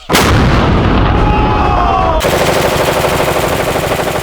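Loud gunfire and explosions boom close by: a big opening blast with a long rumbling tail, then a dense, rapid burst of shots that keeps going steadily to the end.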